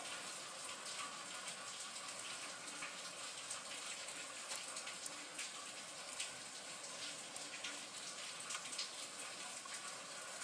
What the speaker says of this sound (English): If you hear a noise in the background, it's rain